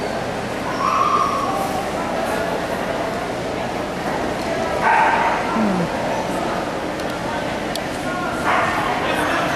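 Dogs at a dog show bark and yip near and far, with males competing for winner's dog, over the steady murmur of a crowded hall and people talking.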